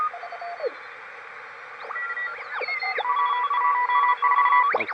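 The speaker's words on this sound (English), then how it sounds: "Oh, there's a couple of CW stations." Morse code stations come through a Heathkit HR-10B ham band receiver as short whistling beeps at several pitches. Tones sweep and chirp as the dial moves, over a low background hiss.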